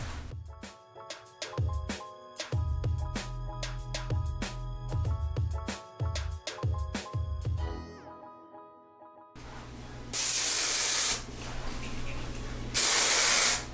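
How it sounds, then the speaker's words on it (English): Texture spray hisses onto hair in two loud bursts near the end, after a run of rhythmic background music with no talk. "Really get the texture spray up in there as well."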